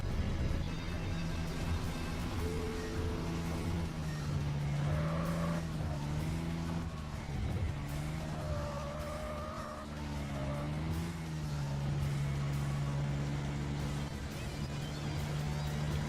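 A blue Nissan Silvia S13 racing in Tokyo Xtreme Racer Zero, its engine droning steadily with rising and falling pitch as the car shifts and accelerates, tires faintly squealing through corners, loud and continuous throughout.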